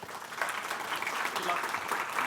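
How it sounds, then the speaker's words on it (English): An audience applauds after a talk, steady close clapping from a modest crowd that runs without pause and keeps an even level. "Can we give a round of applause for Cecilia, please?"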